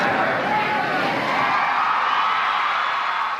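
Cheering crowd of about 3,000 people packed into a small school gymnasium, a dense, steady roar of shouts and whoops filling the space continuously and loudly.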